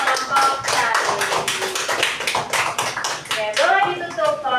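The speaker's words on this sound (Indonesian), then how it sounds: "Tepuk tangan dulu untuk kelompok Charlie." A student group in a classroom receives clapping from classmates, a quick patter of hands heard under overlapping voices and cheerful chatter, fairly close and loud throughout.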